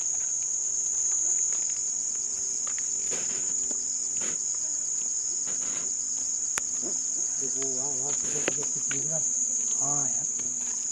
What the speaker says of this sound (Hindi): मच्छर बहुत है, बारिश का मौसम हुआ ना, कैमरे के पास लाइट के पास इतने मच्छर आता है